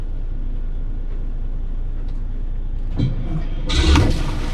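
The starboard diesel engine on a motor yacht cranks and fires up. A low engine hum runs underneath until a loud burst of starting rumble comes near the end.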